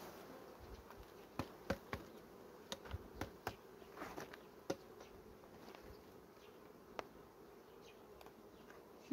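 Honey bees at an open hive hum steadily at close range, a low continuous drone with scattered soft knocks and clicks.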